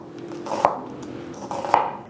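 A knife chopping an onion from top to bottom on a cutting board: two distinct sharp knocks about a second apart, close and clear, with light scraping between them.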